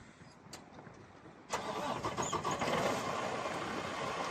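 A 2019 Freightliner Cascadia 126 truck's engine cranks and catches midway, then settles into a loud, steady, close idle with no talk.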